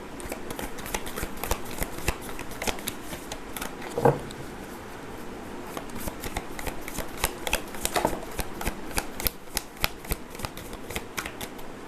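Tarot cards being riffled and shuffled in quick, crisp bursts of flapping and clicking, fairly close and steady throughout, with a sharper snap near the middle and no talking.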